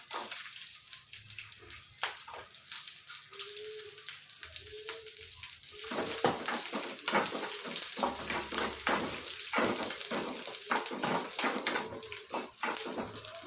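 Ginger, garlic and green chillies frying in a pan for a Kannada bottle gourd masala kootu: soft sizzling with a low hum at first, then louder and busier with repeated clattering stirs.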